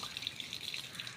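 Soft, close splashes and trickles of water, irregular little bursts as water is scooped and splashed, quiet and without talk.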